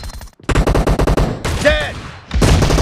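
M1014 shotgun blasts in the BGMI mobile game, several loud, close booming shots in quick succession with a brief pause and a whistling game effect in between.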